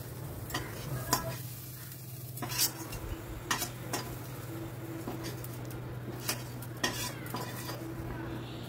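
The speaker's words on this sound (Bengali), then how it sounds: "এবারে আমি এটাকে অন্য একটা পাত্রের ভেতর তুলে রাখছি।" A spoon scrapes and clinks as fried onion masala is scooped from a wok into another pot, with sharp metallic taps over a soft sizzle and a low steady hum.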